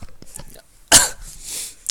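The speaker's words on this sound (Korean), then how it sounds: "바로 기침했네" A person with a cold coughs once sharply and loudly near the mic, followed by a rougher throat-clearing rasp, with brief quiet stretches around it.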